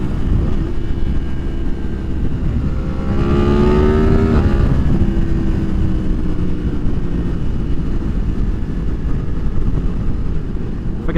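A 2023 Yamaha MT-10 with a Leo Vince slip-on exhaust rides under a constant loud engine drone, rising through a revving climb in the middle before settling back, wind rumble steady throughout.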